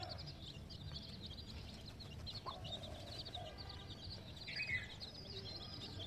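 Chickens and pigeons in a yard, with faint scattered chirps, clucks and cooing calls heard at a distance against a quiet outdoor background.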